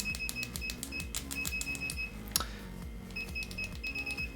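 A Klein multimeter fitted with ProbeMaster probes emits short, repeated continuity-test beeps in an irregular series, fairly quiet and close, with a faint clatter of probe contact under them and one sharper click midway.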